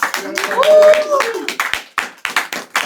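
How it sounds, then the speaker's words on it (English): Several people clapping with sharp, rhythmic hand claps while a voice speaks over the start, the claps growing more distinct toward the end. "Another big round of applause for Krishna."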